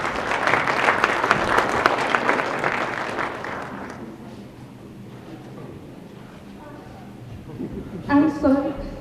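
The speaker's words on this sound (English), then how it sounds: "Please, big round of applause." An audience at a developer talk applauds a prize winner: loud, dense clapping for about four seconds that fades out, followed by quiet room sound and someone speaking.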